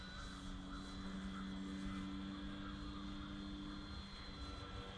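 A Sig Kadet Mk2 RC airplane, powered by a SunnySky 3520 780 kV motor on a 4S battery, flies at half throttle, giving a faint, steady distant drone without a break.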